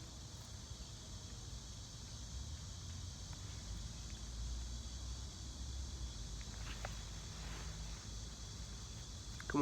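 Steady, faint chirping of grasshoppers fills a quiet outdoor scene, a continuous high insect buzz with a low rumble beneath.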